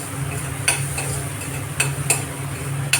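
Moong dal roasting with flour in ghee in a pan, a soft steady sizzle under a few sharp clinks of a spoon stirring against the metal.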